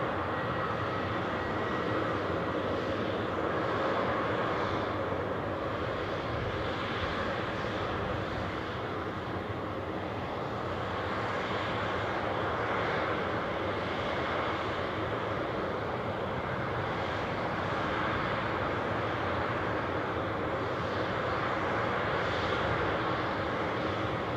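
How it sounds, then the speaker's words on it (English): A steady, broad roar of aircraft engines fills the apron as an easyJet airliner pushes back at Newcastle airport, the sound continuous and unbroken at moderate distance. "easyJet pushing back. I'm guessing that's Bristol."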